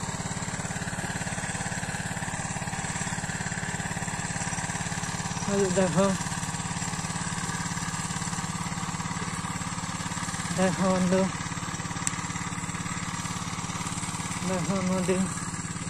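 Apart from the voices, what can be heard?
motor boat engine running on river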